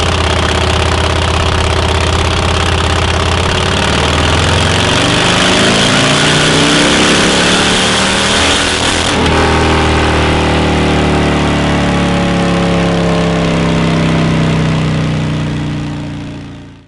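A Harley-Davidson motorcycle with a 131 engine kit runs loud and close on a horsepower test, revving up in a rising sweep, dropping sharply midway, then climbing again before fading out at the end.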